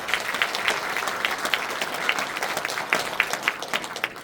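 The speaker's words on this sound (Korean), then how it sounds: "모두 큰 박수 부탁드립니다." An audience at a Cheongju Cheongwon-gu political constituency report meeting claps steadily, a dense, continuous wash of many hands at moderate distance with no one speaking.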